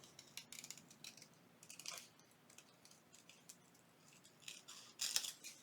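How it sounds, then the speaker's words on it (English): Scissors snip paper around a small yellow teacup cutout's handle for a junk journal collage, quiet close crisp snips and rustles in irregular bursts, with a louder cluster near the end. "I need to cut around the handle here"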